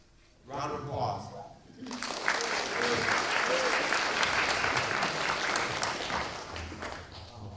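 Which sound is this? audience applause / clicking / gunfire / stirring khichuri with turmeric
audience applause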